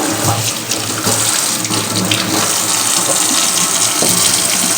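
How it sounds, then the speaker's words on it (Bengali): Tap water runs steadily into a kitchen sink while dishes are washed, a continuous close splashing flow with no talk. "এদিকে কয়েকটা বাসন বেঁচে গেছে চলো এগুলোকে একটু ধুয়ে নিই"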